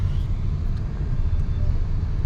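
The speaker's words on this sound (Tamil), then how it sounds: "இங்கே டிராஃபிக்குங்க." Steady city road traffic near Yeshwanthpur railway station in Bangalore, a continuous low rumble of engines and passing vehicles with no pauses, fairly close and constant throughout.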